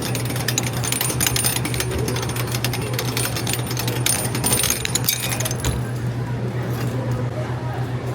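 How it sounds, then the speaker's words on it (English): A coin-operated penny press at a science museum is cranked, giving a steady mechanical grinding and rhythmic clunking throughout, close and fairly loud, with busy ambient noise around it. "put in our 51 cents there, and get to cranking"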